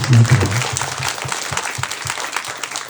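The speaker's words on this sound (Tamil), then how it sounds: "நல்ல ஜோராக ஒரு தடவை கைத்தட்டு பார்க்கலாம்" Audience applause rings out at a church New Year service, a dense burst of clapping that starts loud and keeps going steadily across the whole stretch, with crowd murmur mixed in.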